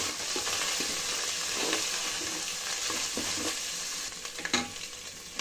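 A dal mixture seasoned with salt sizzles and fries in a pan for a veg biryani, with steady stirring scrapes and a few sharper utensil clinks toward the end, close and continuous without speech.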